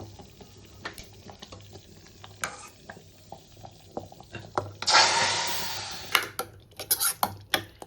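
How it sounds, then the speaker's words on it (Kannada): Stirring a spice tempering for avarekaalu saaru, a field-bean curry, in a pan: irregular metal scrapes and clinks of a spoon, with a burst of sizzling midway and sharper clatters near the end. "ನೋಡಿ ಒಗ್ಗರಣೆ ಎಲ್ಲ ಹಾಕಿ ತಿರುಗಿಸಿದ್ದೀವಿ."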